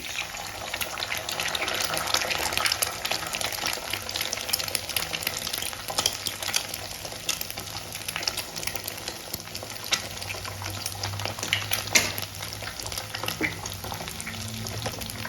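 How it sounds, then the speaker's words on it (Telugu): Beaten eggs hit a pan of golden brown frying onions, raising a dense, continuous sizzle with scattered crackles and spoon scrapes, loud and close throughout without any talking. "ఇలా లైట్గా గోల్డెన్ బ్రౌన్ ఆనియన్స్ అయిన తర్వాత ఎగ్స్ బీట్ చేసుకుని వేసుకోవాలి."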